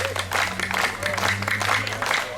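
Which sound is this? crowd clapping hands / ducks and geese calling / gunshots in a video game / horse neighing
crowd clapping hands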